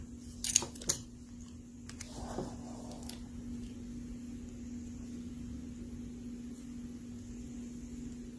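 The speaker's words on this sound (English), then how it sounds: "let me cut it" Scissors snipping bracelet strings near a knot, two quick sharp cuts close up at the start followed by a few faint handling sounds, then a steady low hum.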